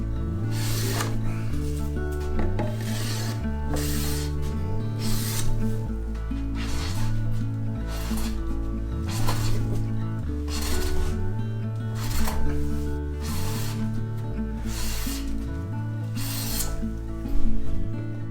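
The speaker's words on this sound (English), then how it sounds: "Planing the stringer is a very dangerous process." A Japanese carpenter runs a power planer over a wooden staircase stringer in repeated passes. Each stroke brings a whirring cut with a rising and falling motor pitch, regular and close, with no one talking.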